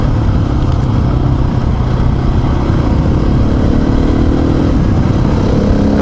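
An off-road motorcycle runs along a bush track on a long-distance off-road ride, its engine a steady, loud, close drone with slight shifts in pitch throughout and no voices.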